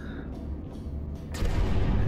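A nuclear explosion in Portal 2 rumbles as a heavy, continuous low roar, swelling suddenly louder partway through and holding a dense, booming wash to the end, with no voices.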